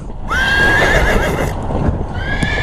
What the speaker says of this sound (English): it's interesting to see these horses go